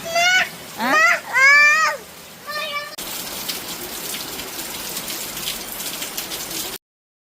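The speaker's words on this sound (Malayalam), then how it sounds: "നോക്കട്ടെ മഴ ഉണ്ട്" Steady hiss of rain falling for several seconds, preceded by a few bursts of voices before the rain sound takes over.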